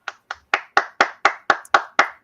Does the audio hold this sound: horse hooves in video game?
no